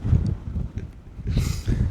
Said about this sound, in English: The wind seems to be affecting your hair today.